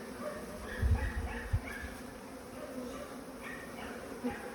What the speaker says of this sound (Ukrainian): Ну, а це мій рій. Це дуже просто. Ми його з дерева струсили. Зараз покажу всі бджілки.